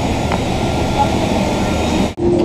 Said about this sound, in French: On est dans l'avion, on est installé